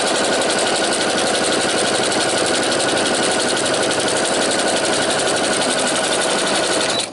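A domestic sewing machine running a zigzag stitch over plain knitting yarn with a couching foot makes a steady, rapid mechanical rattle up close, continuous and alone before stopping right at the end.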